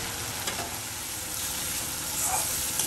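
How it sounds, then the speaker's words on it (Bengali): Whole spices sizzle steadily in hot oil in a pan, a dense, even crackle close by with no talk over it. "আমাদের পুরো মশলা ভাজা হয়ে গেছে"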